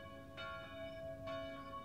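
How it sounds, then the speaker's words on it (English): A fate bell in the audio game Papa Sangre rings twice, clear pealing strikes about a second apart over a steady droning tonal background, with no voices. "Listen carefully for the fate bell."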